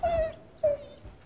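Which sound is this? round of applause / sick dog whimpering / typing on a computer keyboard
sick dog whimpering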